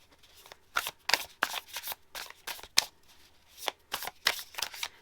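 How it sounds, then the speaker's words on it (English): Tarot cards are shuffled by hand in a series of quick riffling bursts, each a crisp, papery flutter, close and clear with short pauses between them. "Gave myself more room for shuffling this month."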